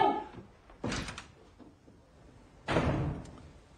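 A door slams in a dramatic film scene within a family argument, two heavy thuds about two seconds apart after a brief raised voice, fairly close and loud.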